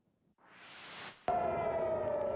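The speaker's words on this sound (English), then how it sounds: "Air raid sirens sounded throughout Israel as Iran launched an attack." A rising whoosh ends abruptly as a loud, steady air raid siren in Israel starts and holds, wailing on one sustained pitch during an Iranian attack.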